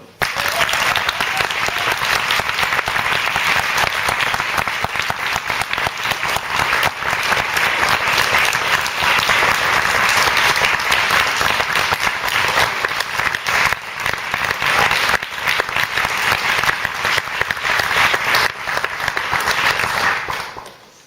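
Loud, dense audience applause after a performance, continuous and sustained for about twenty seconds before tapering off at the end.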